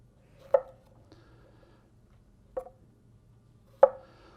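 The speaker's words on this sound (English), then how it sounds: "we're going to cut on the bias diagonally so it makes them a little prettier piece" A knife chops vegetables on the bias against a cutting board, three sharp, sparse taps spaced over a few seconds, close and clear in an otherwise quiet setting.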